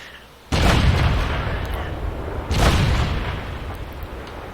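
A tank cannon shot lands on a tank in World of Tanks: two loud, deep booms about two seconds apart, each followed by a rumbling tail that fades slowly, with no voices.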